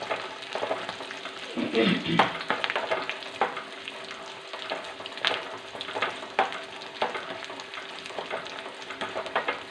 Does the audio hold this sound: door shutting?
no